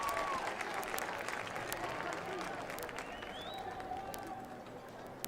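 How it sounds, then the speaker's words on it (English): A stadium crowd at a Friday night high school football game applauds as an injured player sits back up, with a broad, fairly distant wash of clapping and crowd noise throughout. "gets a big round of applause from the crowd here"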